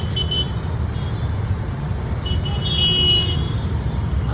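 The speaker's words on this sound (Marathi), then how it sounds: "सिग्नल असल्यामुळे पुढे या ठिकाणी ट्रॅफिक जमतं" Congested traffic waits at a signal in Hadapsar, Pune, with car horns tooting near the start and a longer stretch of honking midway over a constant rumble of engines.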